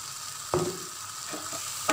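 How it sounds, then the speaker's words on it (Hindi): Spice masala frying in oil with tomato puree, a soft steady sizzle marked by a few sharp spoon scrapes against the pan, close and fairly quiet with no voices. "इस मसाले को भी इस टमाटर प्यूरे के साथ भून दिया जाएगा।"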